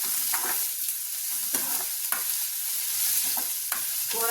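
Sliced onions frying in hot oil while being stirred, a continuous bright sizzle broken by repeated scrapes and clacks of the spoon against the pan, close and steady, with nobody speaking.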